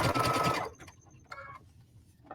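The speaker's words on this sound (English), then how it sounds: "I'm going to now do a zigzag stitch" A sewing machine stitching a zigzag through layered felt for a hexagon candle mat gives a close, loud, rapid mechanical chatter for under a second, then falls to faint clicks and light handling noises.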